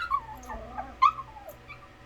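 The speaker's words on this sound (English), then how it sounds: "Oh, is that my baby dog?" A small dog whimpering and yipping in a playback recording, thin high whines rising and falling with brief sharp yelps, fairly faint and alone.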